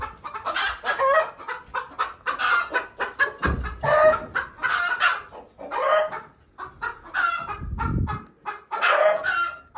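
Several hens cluck and squawk in quick, repeated bursts close by, with a couple of dull low thumps between them and no talk.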